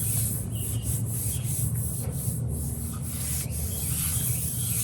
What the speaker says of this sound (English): I think I'll keep sanding until it feels smooth to my hand